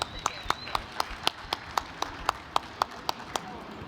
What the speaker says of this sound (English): Give Tim a round of applause,